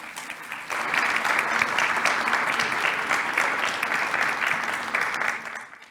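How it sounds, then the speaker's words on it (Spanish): An audience at a national public budget seminar breaks into strong, steady applause that swells quickly and holds evenly for several seconds before fading out. "Lo recibimos con un fuerte aplauso, por favor."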